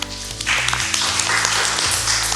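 Audience of children and elderly contestants at a church theology quiz clapping together, a dense burst of applause over a sustained musical tone, close and fairly loud.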